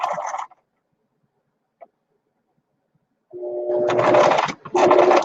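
A sewing machine stitching a short back stitch on a fabric banner: a brief whirring burst, a long quiet gap, then a steady close mechanical whir that stops briefly and resumes.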